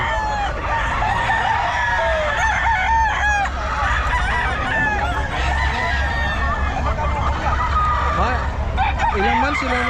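Sweater Gilmore gamecock roosters crowing at a busy pet market, several overlapping cock-a-doodle-doo calls and clucks close by, with people talking underneath throughout.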